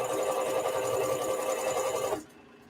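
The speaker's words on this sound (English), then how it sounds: "So we just zigzagging the edges." A sewing machine zigzag stitching the edges of a men's shirt runs in a fast, steady mechanical whir close by, then stops abruptly near the end, leaving quiet room tone.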